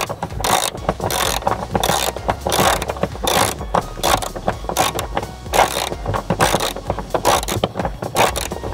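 Rapid, loud ratchet clicking repeats in steady bursts as a bolt is removed from a Jeep seatbelt bracket during a cargo cover install, close by with no talking.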